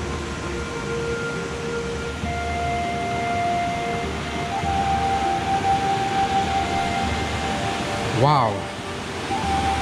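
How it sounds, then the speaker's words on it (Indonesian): Fast-flowing river water beside a forest glamping site, a steady rushing hiss throughout, with faint tonal whines over it and a short exclamation from a voice near the end. "Kemudian suara air yang cukup deras ya"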